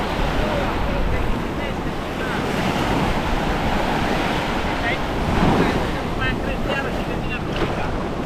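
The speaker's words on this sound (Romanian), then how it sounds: "Azi se pare că sunt valuri. Sunt valuri destul de măricele." Indian Ocean waves on a beach at Guraidhoo in the Maldives, with rough, fairly large surf. Steady broadband wash with wind buffeting the microphone, continuous and fairly loud throughout.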